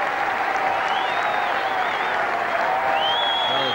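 A cricket crowd at a Mercantile Mutual Cup one-day match applauds and cheers steadily as a batsman walks off the ground, a dense, continuous wash of clapping with whistles rising above it.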